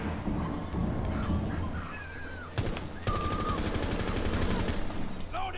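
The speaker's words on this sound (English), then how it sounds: "Alright, I heard gunshots." Gunfire in Rainbow Six Siege multiplayer on PS4: a sharp burst, then a rapid stream of automatic shots under a busy game and voice-chat background, fairly loud and close.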